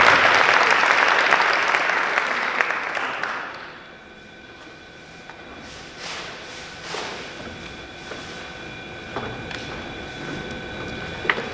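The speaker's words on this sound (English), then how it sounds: "So everybody give him a round of applause" Audience applause at a youth entrepreneurship panel as a speaker walks to the stage, loud dense clapping for about four seconds that quickly fades into a quiet room with scattered bumps and footsteps.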